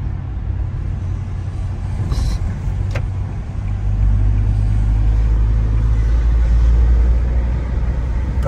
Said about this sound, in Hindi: काफी दिन बाद मैं गाड़ी चला रहा हूँ।